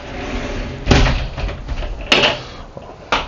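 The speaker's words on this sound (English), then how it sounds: "always make sure you hear the magic click. Otherwise, you're going to have a broken shower door." A fiberglass shower door in a 2023 Renegade Verona motorhome bumps and clicks shut, with a couple of sharp thuds and latch clicks close by in a quiet interior.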